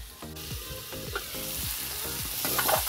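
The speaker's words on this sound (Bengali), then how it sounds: "আগে কাঁঠালের বিচিটা অল্প কষিয়ে নিব। এখন ঢাকা দিয়ে 1 মিনিটের মতন জাল করে নিব।" Jackfruit seeds fry in a covered pan with a steady, close sizzle, broken by several scraping stirs of a utensil against the pan.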